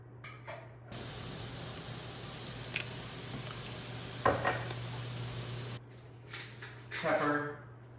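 Onions and garlic with garlic salt stir in a pan, a soft, steady sizzle with faint scraping under a talking voice.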